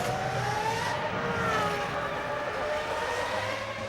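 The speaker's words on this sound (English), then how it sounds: "Schumacher powers up the start-finish straight." A 2001 Formula 1 car at the Brazil race powers up the start-finish straight, its high engine whine loud and sustained, pitch shifting as it accelerates.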